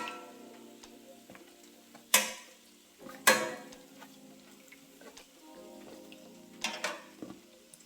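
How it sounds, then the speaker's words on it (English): Ring doughnuts frying in hot fat, a soft steady sizzle with occasional sharp clicks and clinks from utensils nearby, quiet and close. "Now we'll pop our donuts into the fat."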